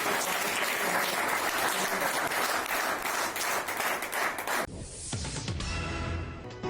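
A crowd applauds loudly and steadily, a dense wash of clapping that thins and softens near the end.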